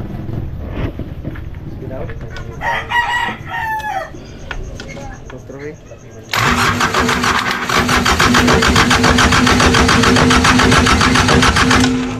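A Japan surplus 4D31 diesel engine, stored for two years, is tested. After about six seconds of voices and a rooster crowing nearby, it bursts into a loud, steady, close running clatter.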